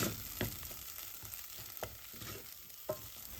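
Choux pastry dough being stirred in a pan as it cooks, with a few distinct scraping strokes spaced about a second apart over a low, quiet sizzle heard up close.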